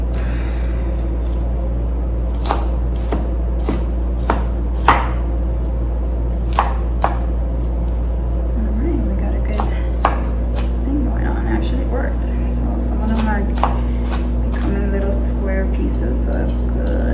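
A knife chops onions and mushrooms on a cutting board for homemade Alfredo pasta, giving a string of crisp, irregular taps close by, with a low steady hum underneath and someone talking over part of it.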